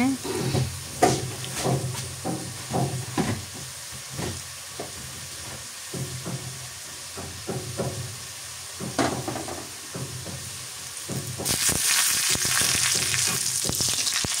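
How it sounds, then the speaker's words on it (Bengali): Ingredients browning in oil for a split-pea vegetable dish sizzle under spoon clicks and stirring scrapes, then the frying swells into a louder, harsher hiss near the end. "পরিমাণ মতো তেল দিয়ে এখন এগুলো আমি ভালোভাবে ভেজে নিচ্ছি ব্রাউন কালার করে।"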